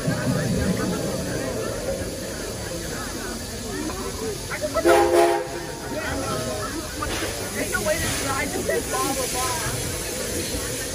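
An amusement ride train on the Halloween Edison attraction rumbles along its rails with a continuous hissing, steamy roar, loud and close, and a brief tonal squeal midway under muffled voices.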